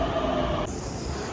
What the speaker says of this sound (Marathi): पुण्याची मेट्रो